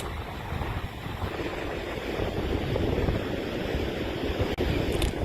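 Strong ocean waves pound a storm-battered beach, a continuous loud rushing roar of surf with wind noise and no voices.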